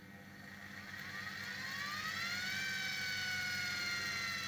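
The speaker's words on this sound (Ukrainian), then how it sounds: "Двигун запустился. Добавляем." A washing machine electric motor, wired up on its own with a speed regulator, hums and spins up, its whine rising smoothly in pitch as it gains speed, then holding a steady high tone.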